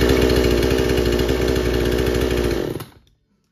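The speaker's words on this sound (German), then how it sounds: "Also Startverhalten der Säge ist äußerst gut" A Parkside electric-start chainsaw engine runs loud and close at a steady buzzing idle, then sputters and dies away into silence.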